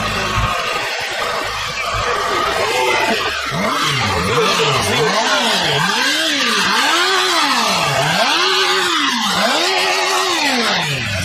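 A 2022 Benda LFC 700 four-cylinder motorcycle engine is revved repeatedly up close, pitch rising and falling in about eight rhythmic, evenly spaced blips after a rougher start.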